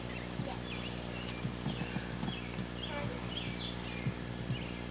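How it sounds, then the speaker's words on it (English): Horses, including a foal, clip-clopping close by on the ground in an uneven series of soft hoof knocks, with faint birdsong in the background. "Boy, Erin, those horses like you."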